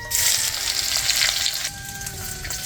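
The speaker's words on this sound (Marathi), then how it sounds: "आता तीन वगळी तेल टाकले जिरे टाकते अद्रक लसूण टाकते" Cumin seeds, ginger and garlic hit hot oil in a pan, giving a close, steady hissing sizzle that holds for a few seconds without talk.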